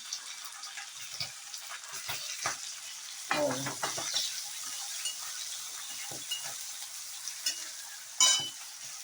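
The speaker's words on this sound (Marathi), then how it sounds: "सगळ्यात पहिला गाजर आणि मटार टाकायचे आहेत आणि चांगले फ्राय करून घ्यायचे आहेत" Carrots and peas fry over high heat for veg fried rice, a soft sizzle broken by intermittent scraping stirs and a brief louder clatter, fairly quiet overall.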